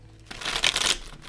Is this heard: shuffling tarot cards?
yes